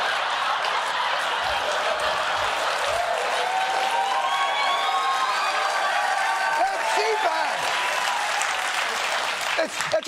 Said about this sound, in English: they cheered for Trump's impeachment